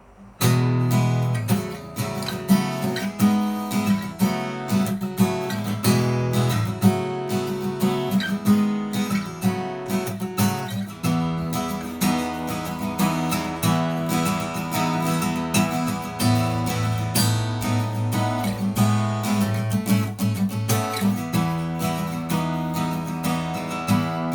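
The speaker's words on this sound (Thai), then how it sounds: "ผมจะเช็คเป็นสายเปล่าให้ฟัง" Acoustic guitar playing open strings with a clean, dry tone, steady ringing notes continuing throughout at a moderate, close level with no talking.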